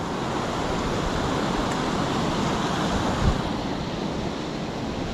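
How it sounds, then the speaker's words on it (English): White water rapids rush over step-down drops at Hareshaw Linn waterfall, giving a steady, broad roar of churning water close by, with a faint bump partway through. "you see all kinds of white water rapids coming down and drop downs like that"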